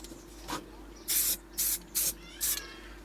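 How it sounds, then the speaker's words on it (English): Short hissing bursts of primer sprayed onto the welded chassis rail of a 1973 VW T2: one soft puff, then four quick, close, evenly spaced sprays against a low background hum. "This is just some primer being sprayed on, really just stop metal oxidising"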